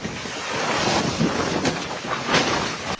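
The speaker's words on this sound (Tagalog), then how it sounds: "Sa videong ito, makikita kung gaano katindi ang hangin" Strong Santa Ana winds roaring and buffeting steadily during a Los Angeles wildfire, with gusty surges and rumbling bursts across the whole stretch, loud and close with no voices.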